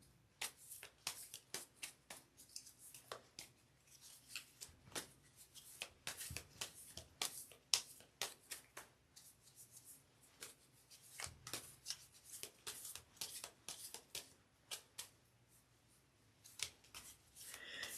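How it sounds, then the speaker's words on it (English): Tarot cards are shuffled by hand in quiet, close rapid riffles and soft slaps, repeating in irregular bursts with brief pauses, no voices. "While I'm shuffling here"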